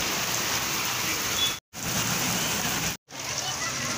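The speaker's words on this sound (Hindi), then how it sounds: "बारिश बहुत तेज़ हो गई है और आपको आवाज़ आ रही होगी" Heavy, sudden rain pours down in a steady loud hiss and patter on surfaces, broken by two brief cutouts.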